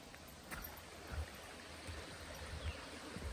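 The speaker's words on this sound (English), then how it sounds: "We got some nice rushing water." A stream's rushing water in the woods of Maine or New Hampshire makes a faint, continuous wash heard from some distance.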